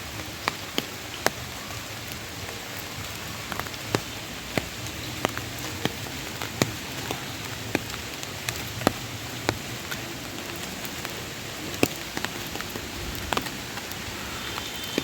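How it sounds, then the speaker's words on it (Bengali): Heavy rain pours steadily outdoors, a constant wash of hiss with scattered sharper drip taps close by, running unbroken and without any voices. "প্রচুর বৃষ্টি হচ্ছে"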